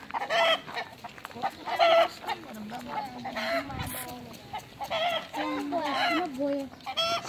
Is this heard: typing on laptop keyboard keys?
no